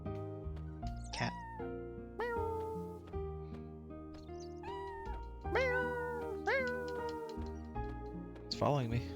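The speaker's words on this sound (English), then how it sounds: "Cat." Cat meows in the PSX game Chrono Cross, short rising cries sounding over game music with a prominent melodic background and speech-like activity.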